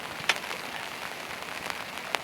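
Rain patters steadily on a boat's canvas bimini top on the Tennessee River, a soft continuous hiss with a few sharper drops standing out, fairly close and with no talking.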